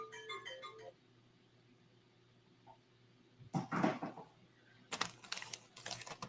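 A phone ringtone plays a short melodic tune at the start, then falls quiet while tapping and clattering sounds follow, fairly faint in a quiet room.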